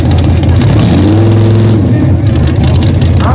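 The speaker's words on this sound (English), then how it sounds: "He had a lot of RPMs and not enough speed." A big mud bog truck engine revs hard while churning through deep mud at a live event, a loud roaring drone that rises and then drops away, with crowd noise and voices over it.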